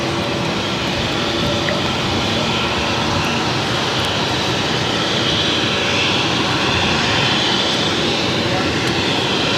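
JetBlue Embraer E190 jet at an airport, its engines making a steady, loud broadband roar and whine that continues without a break.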